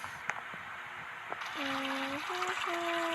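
Shower water trickles and runs steadily at close range, joined by faint squeaky tones partway through.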